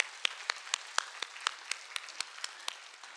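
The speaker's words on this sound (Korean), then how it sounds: "우리 수고하시는 우리 교사들 위해서 박수 한번 하겠습니다" Sparse, rhythmic hand clapping in a church, heard as about a dozen evenly spaced claps from a small group, fairly quiet and distant, with no voices.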